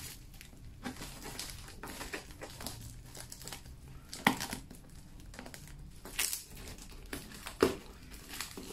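A cardboard box package being opened along its side, crinkling and tearing of packaging in irregular bursts with a few sharper rips, close and fairly quiet, no voices.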